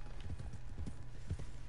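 Hooves of a galloping horse in the western video game Red Dead Online, a quick rhythmic clip-clop thudding steadily over a low ambient bed with no speech.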